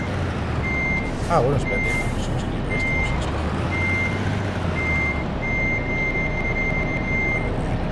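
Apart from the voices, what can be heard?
truck reversing beeps in Truck Simulator Ultimate video game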